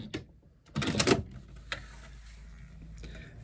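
A sewing machine stitches across a zipper end in a short burst of rapid mechanical clatter, with a few isolated clicks before and after and a quiet motor hum beneath.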